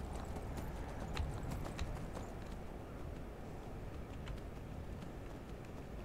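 Horse hooves clip-clop in a steady walking rhythm over a low ambient hum, moderately close and even in level, from the video game Skyrim.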